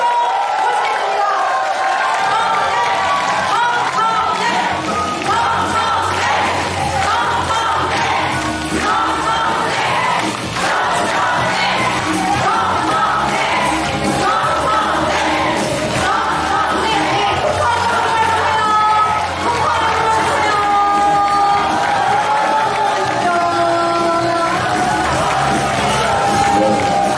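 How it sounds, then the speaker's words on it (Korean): A crowd at a Democratic Party leadership campaign rally in Jeonju applauds and cheers as a party leader candidate takes the stage, a steady wash of clapping and shouts under amplified music and announcements. "기호 2번 정청래 후보님을 뜨거운 박수와 박수로 모시겠습니다."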